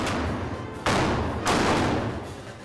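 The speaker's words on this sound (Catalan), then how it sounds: "El dia està marcat per la gran quantitat de pólvora disparada pels 2 bàndols" Gunpowder blasts from the Moors and Christians festival mock battle in Bocairent: two sharp, loud bursts break into sustained crackling, rumbling roar that lingers without pause.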